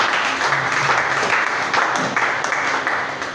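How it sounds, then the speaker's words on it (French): A church congregation applauds and cheers for the Lord: a dense, steady wash of many hands clapping that fills the room at close range, with faint shouts blended in and no clear single voice. "Est-ce que tu peux acclamer pour le Seigneur?"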